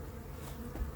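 Honeybees at a hive being installed on Île Saint-Louis in Paris give a faint, steady buzzing drone that holds through the second, with a slightly stronger swell near the end.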